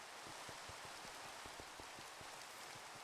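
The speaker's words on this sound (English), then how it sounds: "The rain is just oddly here." Steady rain falling in Minecraft, a dense even hiss of drops on surfaces with faint patters, continuous and fairly soft throughout with no talking.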